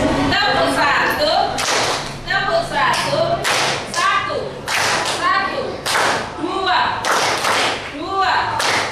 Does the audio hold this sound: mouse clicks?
no